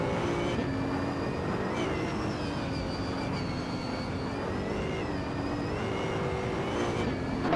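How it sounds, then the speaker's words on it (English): A 2011 Mercedes-Benz SL65 AMG V12 engine in a racing game, a steady droning engine note with shifting harmonic whine, continuous and fairly loud throughout without talk. "The car's massive V12 engine should provide some serious sound and power."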